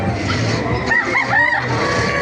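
Chickens, all hens of a black breed, clucking, with a rooster-like call rising briefly over a steady outdoor background, fairly close by.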